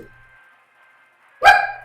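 A pet dog gives a single loud, close bark after a quiet stretch, with only faint background sound before it.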